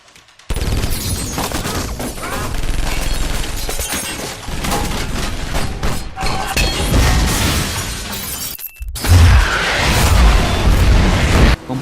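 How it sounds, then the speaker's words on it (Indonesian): A computer blowing up in the film Die Hard, a loud sustained burst of shattering glass and debris, then a second sharp crash near the end. "Komputer Farrell meledak."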